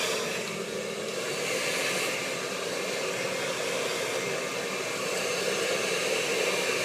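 A hair dryer blows continuously during a haircut, a loud, steady close-up whoosh with slight swells as it moves around the head and no talking over it.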